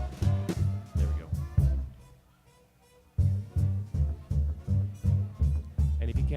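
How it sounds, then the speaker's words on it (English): Kick drum and bass soloed from a swing music recording, a steady thumping pulse of deep low notes, briefly dropping out to near quiet before the beat resumes. "he had me solo out just the kick drum and the bass"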